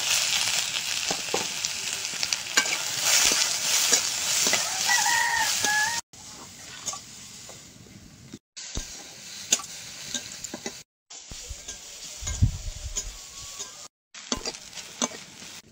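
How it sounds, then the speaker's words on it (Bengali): Onion, green chili and garlic fry in a pan over a home kitchen fire, a close sizzle with stirring scrapes, broken by abrupt cuts into quieter stretches, with a rooster clucking nearby. "এবার পেঁয়াজ কাঁচা লঙ্কা আর রসুনটা ভেজে নেব।"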